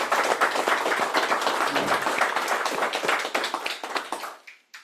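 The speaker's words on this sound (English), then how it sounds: "let's give a big round of applause to Pat" An audience at a division meeting applauds a presenter with a moderate, fairly dense patter of clapping that tapers off and stops near the end.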